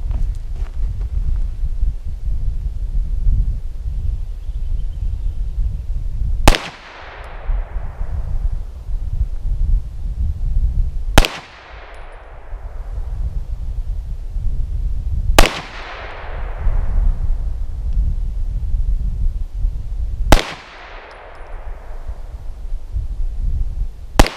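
Four loud, sharp gunshots from a Beretta 92F pistol firing 9mm Inceptor ammunition, spaced roughly five seconds apart, each ringing out with a decaying echo over a steady low outdoor rumble.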